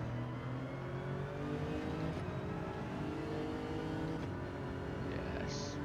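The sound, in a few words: Ford GT race car engine revving in Gran Turismo 7 video game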